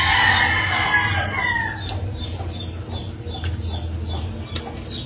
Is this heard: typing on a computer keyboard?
no